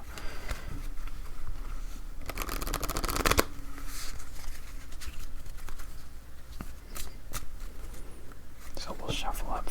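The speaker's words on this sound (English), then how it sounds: "So we'll shuffle up for game number 3." Playing cards being shuffled for a Baker's Dozen solitaire game, close and quiet: a dense riffle burst mid-clip with soft card handling and rustling before and after, no clear talk.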